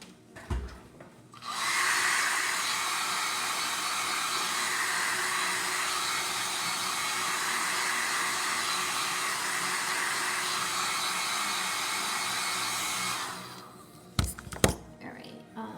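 A hair dryer blows steadily on chalk paint for about twelve seconds, a loud even whoosh that starts and stops abruptly, with brief faint sounds of handling before and after.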